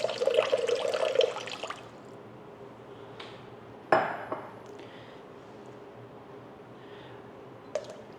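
Water pours into a mixing bowl for hot cross bun dough, a steady splashing stream lasting under two seconds, then a few faint clinks of the bowl in a quiet kitchen.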